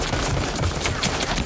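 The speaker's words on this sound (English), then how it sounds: "A hail of gunfire brought him down." Gang's hail of gunfire, a dense rapid fusillade of sharp overlapping shots that continues without a break, loud and close.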